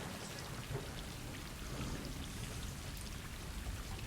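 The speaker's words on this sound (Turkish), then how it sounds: "işte o soğuk gecede yağmur yağarken" Steady, dense rain pours continuously at night in the video game Stray, with a constant hiss and patter, no voices, evenly loud throughout.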